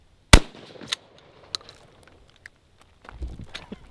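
A single sharp, loud shotgun blast from a rusty Remington 870 fitted with XS sights cracks early and then fades, followed by a few faint clicks and handling noises.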